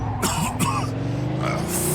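A man coughs and clears his throat a few times, rough and close, over a low rumbling background, in the video game Mafia II: Definitive Edition.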